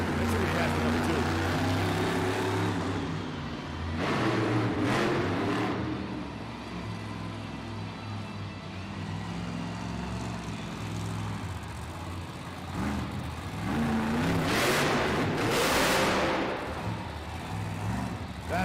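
The JCB Digatron monster truck's engine roars through a freestyle run in an arena, surging in several loud revving bursts that rise and fall over a steady rumble, with an announcer's voice and crowd noise underneath.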